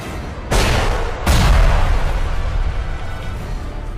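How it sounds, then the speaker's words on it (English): Two heavy booms of a drilling-caused explosion in a film strike about a second apart, each a loud broadband blast followed by a long rumbling roar that fills the rest of the clip. "The drilling causes some kind of explosion"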